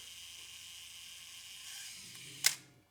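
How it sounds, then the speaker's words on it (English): A Nikon F2 shutter release is pressed, giving one sharp mechanical click from the shutter near the end over a quiet, faintly buzzing background, which then fades away. "Now all we have to do is press the shutter release"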